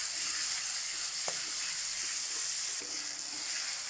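Garlic and ginger frying in a pan give a steady, even sizzle with a few faint clicks, and no one is talking.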